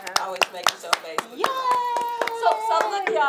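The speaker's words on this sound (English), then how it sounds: "a hand clap" Rhythmic hand clapping, close and sharp, in a steady beat throughout while a voice sings or talks over it.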